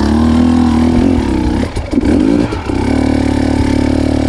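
A motorcycle engine revs loud and close on a steep uphill climb, holding a steady drone, dipping and sputtering briefly in the middle, then picking back up to a sustained roar.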